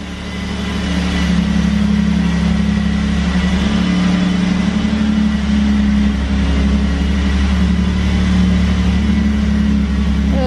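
A 1991 Alfa Romeo 164 with a little over 80,000 miles runs close by. Its engine holds a steady, loud, low idle drone for the whole stretch after a brief fade-in, with no talking over it.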